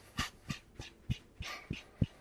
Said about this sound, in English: get that sort of like panting without overdoing it